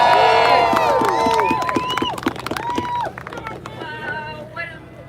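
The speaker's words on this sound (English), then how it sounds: "What an amazing crowd." A crowd at a live rally in DC cheers loudly with rising whoops and shouts, swelling at first and then fading into scattered calls and applause.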